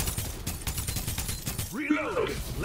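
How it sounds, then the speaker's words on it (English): Distant gunfire from people shooting in the battle-royale video game Farlight 84 rattles in quick volleys, followed by sweeping whooshing effects, with someone talking over it. "Oh, see some people shooting over there."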